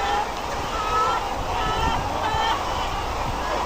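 Ross breeder hens, about 10,000 birds being fed in a modern environment-controlled poultry shed, make scattered overlapping clucks half buried in a constant loud roar of ventilation.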